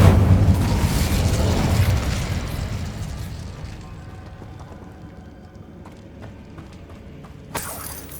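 An Incendio fire spell cast in Hogwarts Legacy bursts with a loud crackling, shattering blast that fades over a few seconds into quiet scattered debris clatter, followed by a brief sharp noise near the end.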